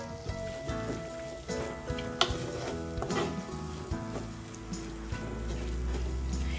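Sardine curry masala with coriander powder sautéing in a pan: a continuous sizzle punctuated by scraping, clinking stirs of a utensil against the metal, close and fairly loud.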